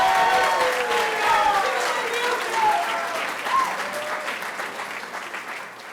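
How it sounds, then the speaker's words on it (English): Graduation audience at a CASA ceremony applauding steadily with scattered cheers and whoops rising over the clapping, the crowd noise gradually fading. "let's give her a round of applause."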